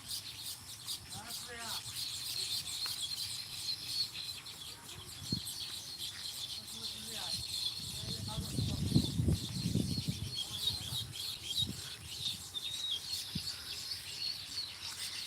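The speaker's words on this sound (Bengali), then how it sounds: "এটা আমাদের ডাব গাছের বাউই পাখি" Baya weaver birds calling from a coconut tree in a village, with short high chirps scattered throughout and people talking near the microphone.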